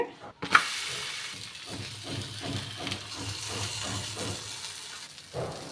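Ragi adai batter hissing and sizzling in hot oil on a pan, a steady close crackle that swells and fades with soft stirring clatter, no talk.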